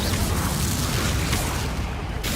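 An Incendio fire spell cast in Hogwarts Legacy, a loud sustained roaring whoosh of flame that fills the whole moment before cutting off abruptly near the end.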